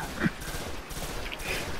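Rapid gunfire bursts from the Destiny video game, a steady crackle of shots with a louder report near the start, mixed under background game noise.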